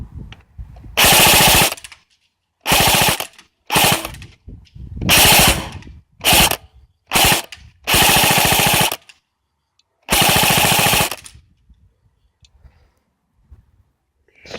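An airsoft gun fires on full auto in repeated bursts of rapid clattering shots, loud and close, with a handful of bursts of varying length separated by short pauses.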